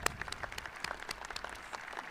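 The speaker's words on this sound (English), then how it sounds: "Let's applaud her." Audience applause at a university commencement ceremony: a steady wash of many hands clapping throughout, moderately loud and continuous with no voices.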